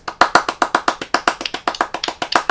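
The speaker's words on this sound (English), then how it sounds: "A round of applause" A single pair of hands claps briskly and steadily at close range, about a dozen sharp claps in quick even rhythm, with no voices.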